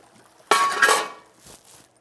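Cooked rigatoni pasta poured from a pot into a strainer: a sudden loud splashing rush with metallic clinks, tapering off over about a second, followed by a few faint drips and knocks.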